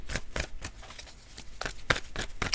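Oracle cards for a tarot reading shuffled by hand, a run of crisp riffling bursts in an uneven rhythm, close and fairly quiet, with no talk over them.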